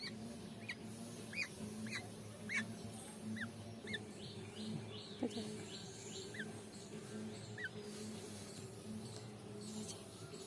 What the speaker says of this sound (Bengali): খুবই ছোট এই পাখিটি